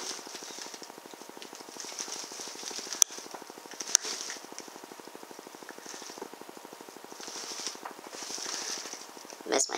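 A rifle shot at a rat on a night hunt with an ATN 4K night vision scope. Sharp, brief cracks stand out against a steady, faint mechanical hum, with a last crack near the end.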